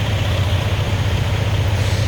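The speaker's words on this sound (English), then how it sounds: "Trucks are so loud." A truck engine idles nearby, a loud, steady low rumble with a constant hum that holds without break throughout.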